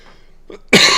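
A single sharp, loud cough close to the microphone, preceded by a faint throaty sound, ending abruptly.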